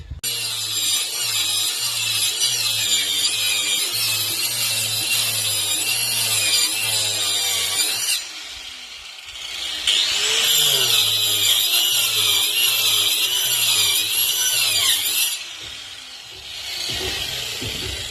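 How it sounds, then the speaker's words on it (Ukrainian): Power saw cutting a wooden board in half at a building site, a loud continuous whine running for about eight seconds, pausing briefly, then cutting again in a second long pass before trailing off. "таким чином розрізаємо дошку навпіл"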